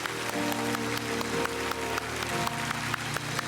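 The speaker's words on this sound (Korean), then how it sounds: "우선 우레와 같은 박수로 저들을 축복하기 원합니다" Church congregation applauding standing young adults during a Sunday worship service, sustained clapping over a low, steady musical drone that continues throughout.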